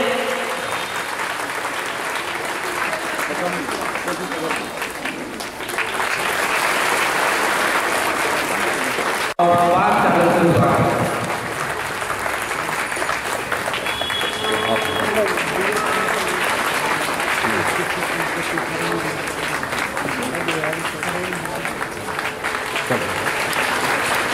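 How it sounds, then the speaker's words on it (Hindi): Sustained audience applause at a school event with local officials present, steady crowd clapping that swells midway, with voices faintly beneath. "ये पड़ोसी है विद्यालय के जो भी काम, ताली बजाइए"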